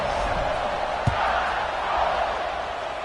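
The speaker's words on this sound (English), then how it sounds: "this crowd is buzzing after that last score" Dense, steady roar of a large football stadium crowd buzzing after a score, a continuous wash of many distant voices with one faint thump partway through.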